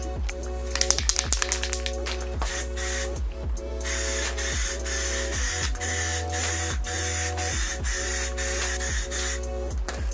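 An aerosol spray can lays primer coats on a Fiesta ST MK6 rear diffuser, giving a steady close hiss in repeated passes over a constant low hum, with a brief rattle near the start.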